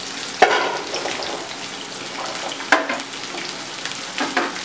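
Chettinad chicken gravy sizzles in a pan as it is sautéed, a steady close frying hiss broken by a few sharp stirring scrapes and bursts of spatter.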